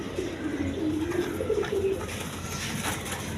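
Bombay pigeons coo at a farm, a few low, rolling coos rising near the middle, close and moderately loud over a soft background hum, with no talking.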